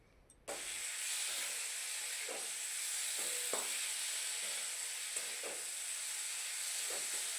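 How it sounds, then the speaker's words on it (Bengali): Cut potatoes being stirred in a hot pan with salt and masala, giving a steady close sizzle and hiss broken by a few soft scraping stirs. "এবার কেটে রাখা আলুগুলো ওর মধ্যে অ্যাড করে কিছুক্ষণ নাড়াচাড়া করে নিয়েছি।"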